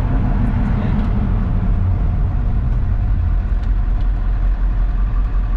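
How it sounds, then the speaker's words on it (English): A Ford OBS truck's 7.3 diesel engine runs steadily while warming up, a loud, constant low rumble with no break. "As the truck started to warm up, we could feel it was starting to run a little bit better."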